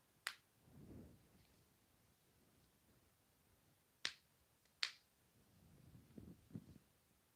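Snap fasteners closing on a sewn fabric romper give a few sharp, faint clicks spaced seconds apart, with soft handling rustle between them in a quiet room.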